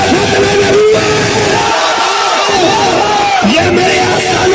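Large crowd at an Eid Milad un Nabi procession roaring a loud chanted reply to a religious slogan, voices swelling together close by over dense background babble.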